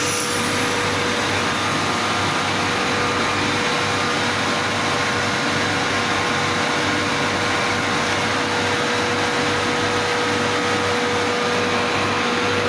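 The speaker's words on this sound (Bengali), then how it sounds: "আমাদের হাওয়ার প্রেসার ছেড়ে দেওয়া হলো এখন।" A steady, loud hiss of compressed air vents from an air conditioner unit during servicing after a leak test, holding unbroken for the whole stretch with no voices.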